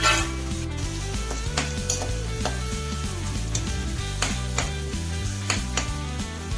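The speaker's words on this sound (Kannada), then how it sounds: "ಈರುಳ್ಳಿನ ಡೀಪ್ ಫ್ರೈ ಆಗೋವರೆಗೂ ಹುರ್ಕೋಬೇಕು" Onions and chillies sizzle steadily as they deep-fry in a pan, a continuous crackling hiss with occasional utensil taps and stirring clatter, close and clear with no talking.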